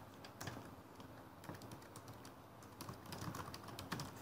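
Quiet typing on a computer keyboard while entering a new activity in project scheduling software, scattered soft key clicks over steady room noise.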